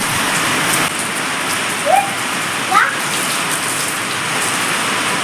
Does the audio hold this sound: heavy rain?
yes